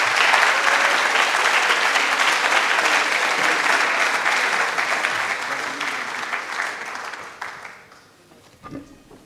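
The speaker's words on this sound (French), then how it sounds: "vos applaudissements" An audience at a Kimbanguist church symphonic music show applauds the leader of the church guitarists, loud sustained clapping that gradually fades over several seconds and dies out near the end.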